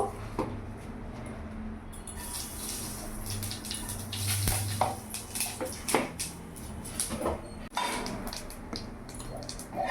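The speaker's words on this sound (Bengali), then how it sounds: "এবার এই তেলের মধ্যে আমি এখানে গোটা জিরে ফোড়ন দেবো" Whole cumin seeds dropped into hot oil for tempering, crackling and spitting in a steady, close sizzle with scattered sharp pops and clicks, no talking.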